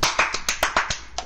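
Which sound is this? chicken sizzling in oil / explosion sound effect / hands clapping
hands clapping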